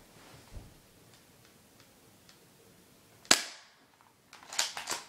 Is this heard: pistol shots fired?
yes